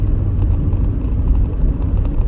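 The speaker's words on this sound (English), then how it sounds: "And now the brow of the hill again, engine braking all the way." A steady low engine rumble from inside a Rover 25 GSi engine braking downhill, continuous and fairly loud with no voices.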